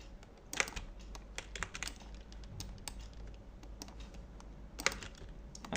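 Computer keyboard keys and mouse buttons click while a game level editor is in use, making close, quiet, irregular taps with a few sharper clicks, heard alone.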